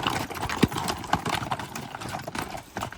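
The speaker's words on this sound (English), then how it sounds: "we got some horses over here." Horses walk along a hiking trail near Havasu Falls, their hooves clip-clopping in an irregular rhythm at moderate distance over a rough outdoor background.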